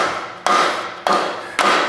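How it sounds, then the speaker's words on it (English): A dead blow hammer strikes a cast iron oil pan on a 2017 Chevrolet Equinox 2.4, three sharp, evenly spaced thuds about half a second apart, close and loud, each followed by a brief decaying ring. "I'm just gonna take and hit it a few times to try and shock this thing loose"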